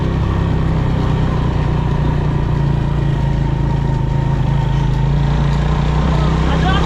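Motorcycle ridden along a hilly road toward Katas Raj Temple, a loud, steady engine drone with constant rumble and wind noise that continues without break and carries faint voices beneath it.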